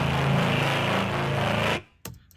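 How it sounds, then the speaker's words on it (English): A sustained synth note in a dark pop track, processed with a flanger, swells and holds with a shifting sweep for under two seconds before cutting off, followed by a brief faint hit. "you can really hear on the sustain note, like, the movement of the flanger"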